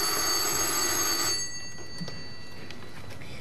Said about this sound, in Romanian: Doamne, telefonul ăsta.